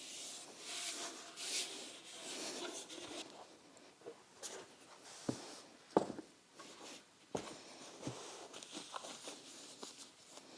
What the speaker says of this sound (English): Let's get these sanded down and ready for paint.